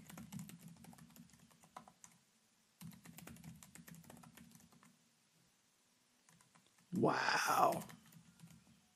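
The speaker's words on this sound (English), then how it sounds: "I'm going to just go ahead and type one in." Someone typing a password on a computer keyboard, bursts of quick light key clicks separated by short pauses, close and fairly quiet, with a brief louder voiced exclamation near the end.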